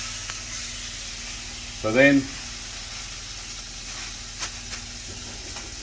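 A wagyu scotch fillet steak, oiled with olive oil, sizzles on a hot grill as a steady, faint hiss beneath a short spoken phrase, with small pops now and then.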